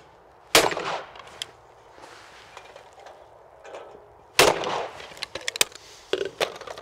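Shotgun blasts at rabbit clay targets on a shooting range: two loud, sharp shots about four seconds apart, each followed by a ringing tail, with smaller clicks and knocks of gun handling between them.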